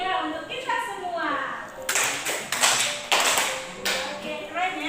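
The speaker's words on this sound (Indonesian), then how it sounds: "Beri tepuk segitiga untuk kita semua." Classroom of children doing a rhythmic triangle clap, several sharp bursts of group clapping in quick patterned groups, mixed with children's voices and a teacher speaking.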